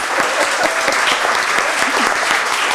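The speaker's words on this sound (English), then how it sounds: "Give yourself a round of applause." An audience at a school spelling-bee final gives sustained, loud applause, dense steady clapping from many hands throughout.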